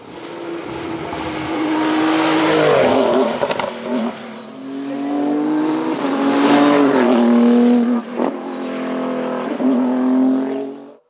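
A Renault RS01 race car climbs a hill climb course, its engine loud and near, winding up through several gears with rising and falling revs and brief drops at each shift.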